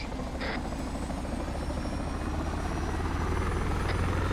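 Steady video-game helicopter rotor chop with a continuous whirring engine, loud and constant, with a couple of brief electronic beeps over it.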